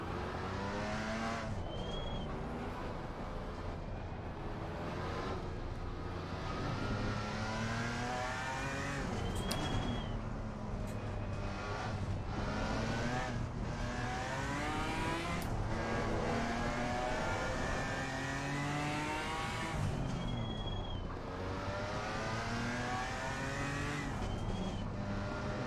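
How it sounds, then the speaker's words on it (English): GT4 race car drifting in a sim racing game, its engine revving and shifting in rising and falling sweeps with repeated tyre squeals, loud and continuous for the whole stretch. "GT4 drifting."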